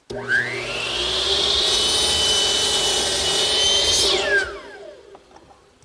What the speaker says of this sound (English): I'm squaring up one end, sliding it down to my stop block, which is set at 28 1/4, and cutting it to length.